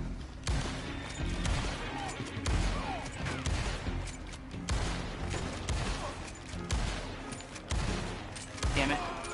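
Gunfire from a Red Dead Redemption shootout, a string of sharp shots scattered through the stretch with broadband bursts over a busy game soundscape, fairly close and loud.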